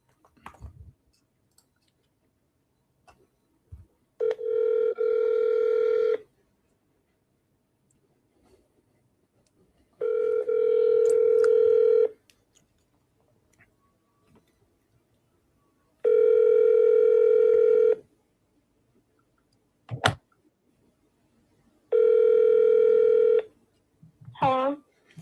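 A telephone line gives out repeated ringback tones, four evenly spaced two-second bursts with silent gaps between them, plus a few sharp clicks.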